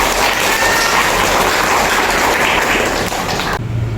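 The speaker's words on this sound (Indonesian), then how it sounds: "tepuk tangan buat kakak yang berani maju sharing ya teman-teman" An audience at a self-management workshop claps for a participant who came forward to share, a dense, even patter of hands that runs for several seconds and then cuts off abruptly.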